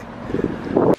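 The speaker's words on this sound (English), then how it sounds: "it's too daggone windy to be sitting out there" Outdoor wind buffeting the microphone, a short, loud, low rumbling gust that swells and then cuts off abruptly.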